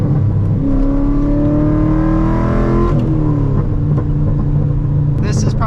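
A 2015 Chevrolet SS with intake, headers and a tune revving and shifting, its engine note rising and dropping through gear changes, loud and close, with a brief crackle near the end.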